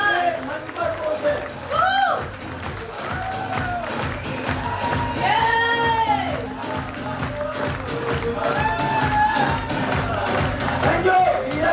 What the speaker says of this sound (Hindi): तालियां जोरदार और लगातार